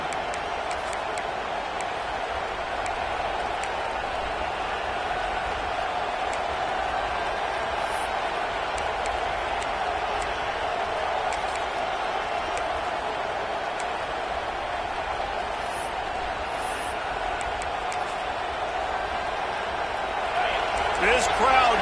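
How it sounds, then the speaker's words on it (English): A packed LSU college football stadium crowd roars in a steady, unbroken wall of noise that swells slightly at the end, with a commentator's voice faintly underneath. "this crowd is getting behind this defense"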